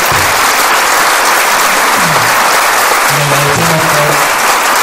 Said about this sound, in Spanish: le vamos a dar un gran aplauso a Leonardo